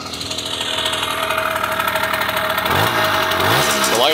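A 1974 Honda MR50 two-stroke motorcycle engine runs at a loud, buzzing idle nearby, its rattly pulse steady before the revs climb and dip near the end.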